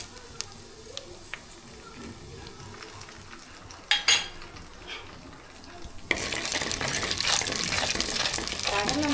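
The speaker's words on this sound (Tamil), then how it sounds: "எண்ணெய் நல்லா சூடாயிடுச்சு வெந்தயம் சேர்த்துக்கலாம்" Fenugreek seeds hitting hot groundnut oil in a clay pot for village fish curry, with a few faint clinks and a brief clatter before a loud, steady crackling sizzle takes over.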